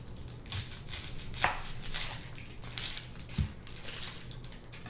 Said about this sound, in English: I'm going to chop some onion to put into our little dip